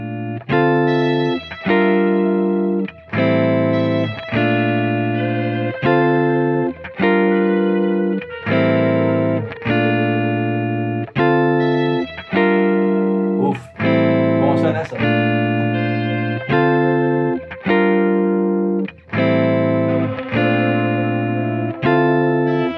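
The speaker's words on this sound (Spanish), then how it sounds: "A este saxo pues le pongo, ponte que un balance y también un vintage verde para el eco." A saxophone plays a sustained melody of repeated held notes with short breaks between phrases, drenched in a green vintage reverb and echo effect that lets each note ring and decay; loud and close, with no talking.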